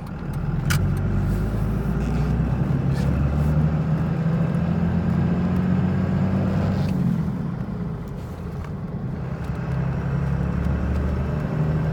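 Cummins diesel truck with a six-speed transmission driving on the road, a steady loud engine drone and road rumble from inside the cab, easing off briefly and then building again, no talk.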